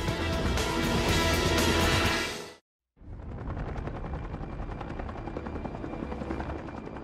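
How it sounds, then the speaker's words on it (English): A helicopter on a logging job over Pacific Northwest forest gives a loud, dense rotor and turbine roar. It breaks off for a moment, then returns with steady blade chop. "High above the glorious woods of the Pacific Northwest, a helicopter pilot carefully positions his ship."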